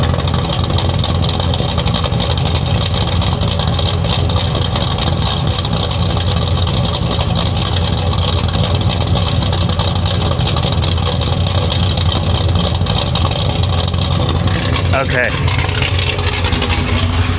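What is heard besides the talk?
1966 Chevy Impala engine running through exhaust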